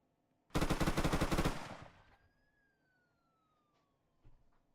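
A loud burst of rapid automatic gunfire in a video game lasts about a second and a half and fades out, followed by a thin rising and falling siren tone and then a quiet thud.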